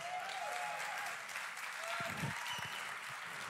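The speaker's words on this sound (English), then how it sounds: "That was like the weakest clap." Thin, subdued applause from a church gathering audience, a faint continuous patter of hands with no strong individual claps, low in level with a brief low murmur partway through.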